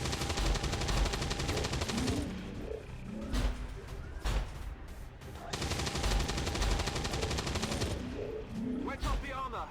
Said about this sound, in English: Let's rapid fire him to death.